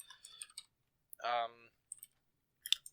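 Scattered keyboard clicks as a place name is typed into a map text field in Fortnite creative mode, short soft taps in small clusters, with a brief tonal sound in the middle and quiet gaps between.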